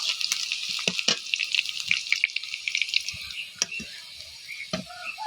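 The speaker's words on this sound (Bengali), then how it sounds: "এখানে লঙ্কা পেঁয়াজ তেলে পুড়িয়ে নিচ্ছি ভালো করে।" Chili and onion fry in hot oil, a close crackling sizzle with scattered sharp pops and spits, uneven in rhythm and loud in the foreground.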